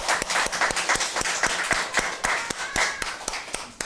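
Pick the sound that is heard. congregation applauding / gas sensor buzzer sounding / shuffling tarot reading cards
congregation applauding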